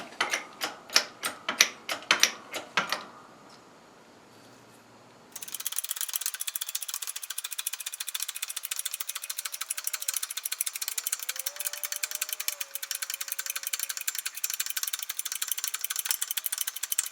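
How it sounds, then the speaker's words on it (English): A lathe keyway cutting ram works a keyway into a pulley. Sharp rhythmic cutting strokes come first, then a pause, then a steady, dense machine chatter that continues to the end. "Keyway cutting ram."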